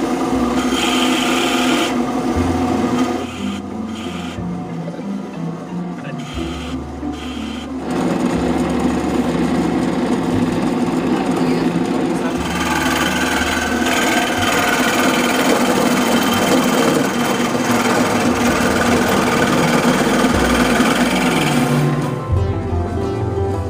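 A drill bit grinds steadily while boring, with the tone shifting as the bit is raised and lowered to clear debris, a continuous loud whirring with brief dips in pitch and load.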